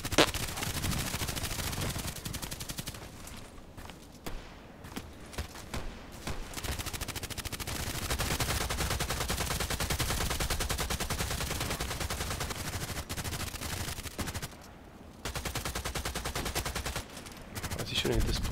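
Gunfire in the online shooter Contract Wars during a New Year's Eve match, with sustained bursts of automatic fire and scattered shots rattling almost without pause, dense and fairly distant under game ambience.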